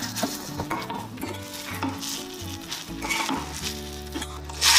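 Pre-fried, deseeded pointed gourd is stirred into a pan with green chili paste and cumin powder, giving steady sizzling with repeated scraping and clinking of a spatula against the pan.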